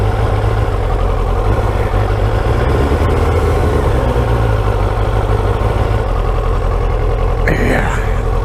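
A motorcycle engine idles steadily at close range, a loud, continuous low rumble that holds unchanged throughout with no revving or talk.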